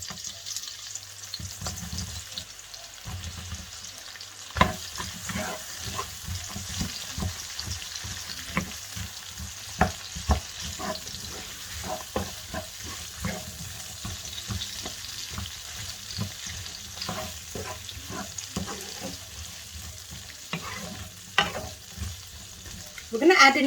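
Onions frying in about two tablespoons of olive oil for tuna pasta, a close sizzle with frequent sharp crackles and stirring clicks, building louder near the end.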